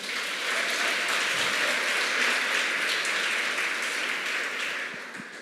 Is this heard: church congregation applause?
yes